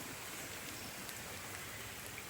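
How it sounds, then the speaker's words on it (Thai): Heavy rain falls by a stream during a fishing trip, giving a quiet, steady, even hiss with no pauses. "ในวันที่ฝนตกหนักนะทุกคน"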